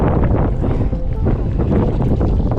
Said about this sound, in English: I don't want you guys to just have to hear the wind the whole time over me